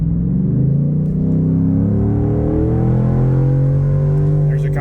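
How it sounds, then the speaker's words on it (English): Vehicle engine rumbling steadily on an open road while gearing down toward third, a loud close drone with a low pitch that slowly shifts. "So let's try to get it down to third gear."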